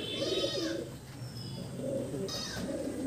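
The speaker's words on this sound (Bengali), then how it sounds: "বাহ, দারুণ পায়রা।" A pigeon coos close by, giving a few soft throaty rolling calls that pause briefly and then resume, heard clearly on its own.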